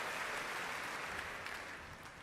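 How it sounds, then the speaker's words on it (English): Broad, steady applause from a large concert audience at the BBC Proms, after a 160-musician youth orchestra plays Mahler, fills the space, a dense wash of clapping that fades slightly toward the end. "Gets all 160 musicians to their feet once again for a very well-deserved applause"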